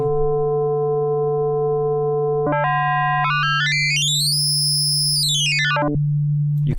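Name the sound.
FM synthesizer note with modulator ratio raised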